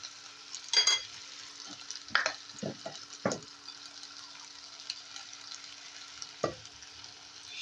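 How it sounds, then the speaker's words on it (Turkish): Purslane dish with garlic being stirred in olive oil in a pot, giving several scraping, clattering stirs spread across the clip over a steady low sizzle, close by and with no talking. "Şöyle bir karıştıralım yemeğimizi."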